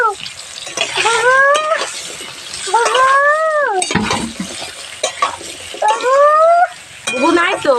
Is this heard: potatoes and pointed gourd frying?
yes